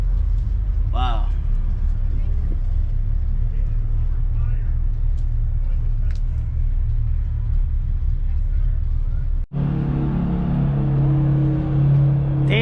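Truck engines rumble at the Connecticut truck show, a heavy low drone that runs steadily and gains a stronger, tonal revving note near the end, with voices in the crowd throughout.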